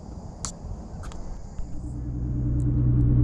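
Mitsubishi Evo X driving, low engine rumble inside the car that gradually swells louder toward the end as it pulls away, with faint high whine and small clicks above.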